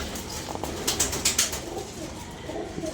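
Pigeons coo faintly in a loft where chicks are being raised, with low murmuring calls and a few brighter bursts near the middle. No talking.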